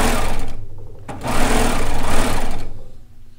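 Serger sewing machine running in bursts as it stitches and trims a quarter inch off a slick fabric edge for a kimono, a loud close whir that briefly pauses and resumes before winding down.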